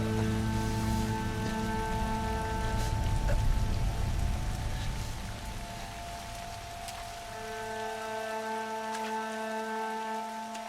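Steady rain falling in the wilderness, a dense even hiss with scattered drops that eases and thins toward the end, with no voices.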